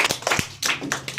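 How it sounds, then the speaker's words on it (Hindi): A classroom of children clapping together for quiz winners, a brief burst of quick, uneven, close hand claps. "इनको वास्ते जोर से तालियां बजाइए।"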